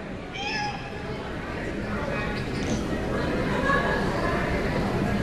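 At a convention panel, a person imitates a cat with a few high meow-like calls over a background of crowd chatter and talking.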